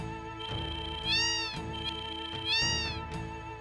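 Two clear, high sliding meows from a cat in the video game Final Fantasy VII, spaced about a second apart and set against looping in-game background music.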